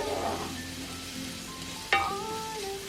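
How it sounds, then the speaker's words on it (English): Onion fries in a pan for vegan stuffing, a steady soft sizzle with a brief sharp clank of a utensil partway through and a faint tonal ring. "I'm just starting by frying up onion"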